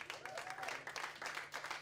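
Comedy club audience applauding at a late-night Friday show in Atlantic City, a steady wash of clapping that holds for under two seconds, with a voice faintly audible beneath it.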